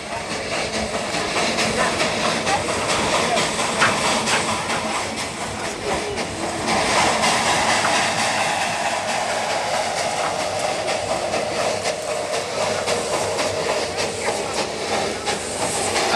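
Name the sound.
steam locomotive Baby Sivok climbing toward Tindaria station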